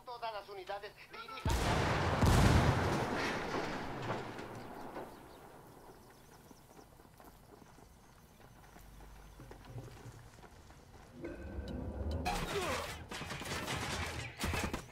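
A frag grenade blast in Ghost Recon Wildlands, a loud broadband burst near the start with more rumbling game noise and another loud stretch of action near the end.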